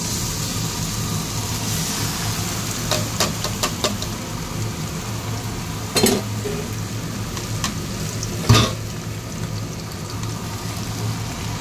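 Mutton pieces fry with browned onions in a pan, giving a steady close sizzle throughout with a few brief clinks and scrapes of stirring.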